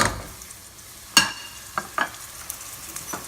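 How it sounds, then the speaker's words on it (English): Ginger and garlic hit a hot pan for a curry, giving a steady soft sizzle with a few sharp clinks and stirring scrapes, close and fairly quiet, with no talking. "Now I drop my ginger and garlic together,"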